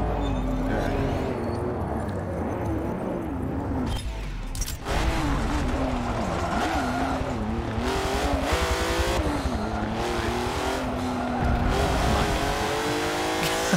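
A race car in a racing video game drives steadily with its engine droning and tires squealing through understeer in the turns, loud and continuous with no talk over it.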